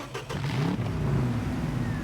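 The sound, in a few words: Ford truck engine revving, Expeditions video game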